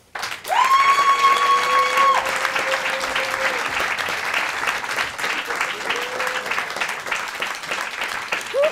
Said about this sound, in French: je vous demande d'applaudir avec nous